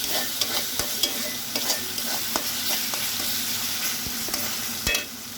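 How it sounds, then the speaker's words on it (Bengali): Spice masala stirred and sautéed in a pan for goat brain bhuna, a steady sizzle with repeated sharp scrapes and taps of the spoon against the pan, close and continuous, no voices. "এখন এটা আমি ভালোভাবে কষিয়ে নিব।"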